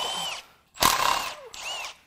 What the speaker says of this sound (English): Next, we'll get the timing cassette bolts out.